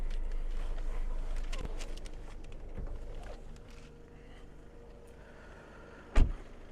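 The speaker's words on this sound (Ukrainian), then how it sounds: "Зараз піднімемо капот." A single sharp clunk rings out near the end as the hood of a 2019 Skoda Octavia A7 2.0 TDI is opened, following several seconds of low rumbling and faint handling noises.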